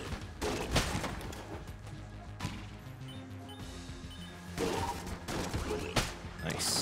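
Gunfire in the Enter the Gungeon video game cracks out in several sharp bursts and single shots, spaced unevenly over a busy background of game music and effects.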